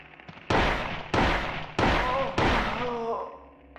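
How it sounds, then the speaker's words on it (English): Four handgun shots fired in rapid succession in the video game Silent Hill, each a loud punchy crack with a short decay, with faint creature squeals sounding between the later shots. "it takes seven handgun shots to drop her"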